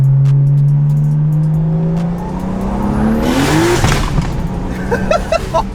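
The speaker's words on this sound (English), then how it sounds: "All right, we'll do a second gear pull, see what happens." A single-turbo BMW N54 car makes a second-gear pull with wheelspin. The engine drone climbs steadily in pitch, then the power cuts and a rough, broken burst of noise follows with choppy pops and tire noise. It is loud and close.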